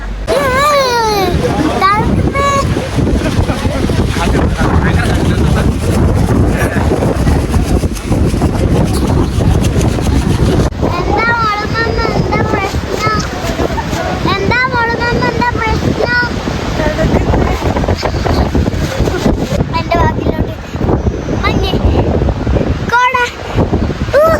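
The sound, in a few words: strong wind on mountain peak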